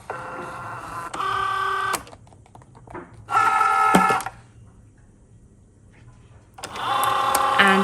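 A desktop cutting machine loads and positions a scrap of material, giving three separate bursts of close motorized whirring and buzzing with quiet gaps between them.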